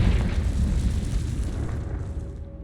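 A booming fiery explosion from the Confringo spell in Hogwarts Legacy, loud and heavy at the onset with a deep low rumble that slowly rolls off and fades out over a few seconds, with no voices.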